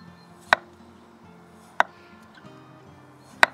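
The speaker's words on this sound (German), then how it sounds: "Jetzt schneide ich die Kartoffeln in Scheiben." Knife slicing through raw potatoes on a board: three crisp, close cuts spaced irregularly about a second apart, over quiet kitchen background with no talk.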